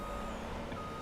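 Reversing beeps from a vehicle working the end of harvest, a steady series of electronic beeps over engine rumble, fairly close, with no voices.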